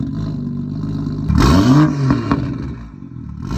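BMW M2 engine fires up with a sharp starter whir and exhaust bark, then a short rev that rises and falls before settling into a lower idle, close and loud.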